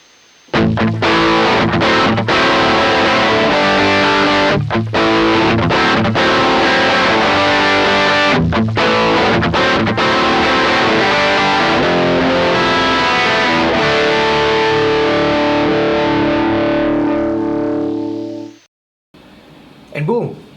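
Distorted electric guitar track reamped through an Ironheart IRT Pulse amplifier, loud, thick and sustained chugging riffs with short stops, ringing out and cutting off near the end.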